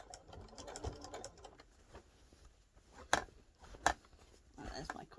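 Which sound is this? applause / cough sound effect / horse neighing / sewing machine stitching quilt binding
sewing machine stitching quilt binding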